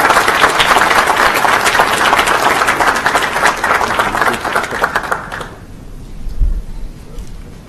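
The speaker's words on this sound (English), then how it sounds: "One more round of applause for him." Audience applause at a school board of education meeting, a dense, even burst of clapping that carries on for about five seconds and then stops abruptly, leaving a quiet room.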